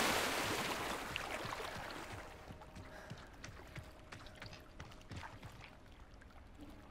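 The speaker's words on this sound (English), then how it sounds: "I'm walking underwater." Watery wash and sloshing while a character walks along underwater in the video game Hogwarts Legacy, a broad surge fading from loud to a steady faint murmur with small bubbling ticks, no voices.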